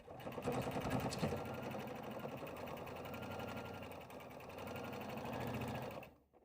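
A sewing machine runs steadily for about six seconds, top-stitching a seam on a fabric sippy-cup sling with a fast, even mechanical whir, then stops abruptly.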